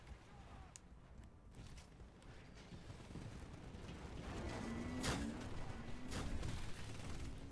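Gunfire in Titanfall during an Attrition match on Xbox One: bursts of shots and impacts are buried in a dense, rumbling game mix that builds louder toward the end.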